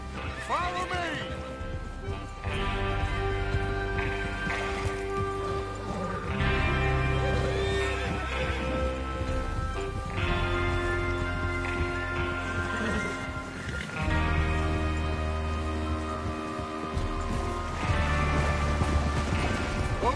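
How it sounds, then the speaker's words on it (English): In the Red Dead Redemption 2 video game, horses neigh repeatedly and hooves clip-clop at a gallop over a music score, with voices talking now and then. "Get your horses ready."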